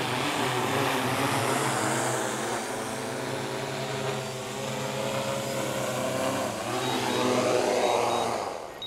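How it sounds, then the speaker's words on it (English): A drone comes in to land from about 70 feet over a new housing development, its propellers whirring in a steady, loud buzzing drone that holds throughout and shifts slightly in pitch as it descends. "we will land the drone again"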